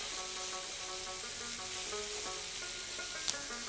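Lamb chops frying in a pan, a dense constant sizzle close up with occasional faint stirring clinks, with no voices.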